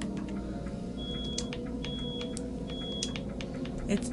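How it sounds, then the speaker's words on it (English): Smoke alarm set off by cooking bacon, giving three short, steady high beeps about a second apart, faint and well under a constant hum of game background noise. "my alarms are just confused because they think that there's bacon"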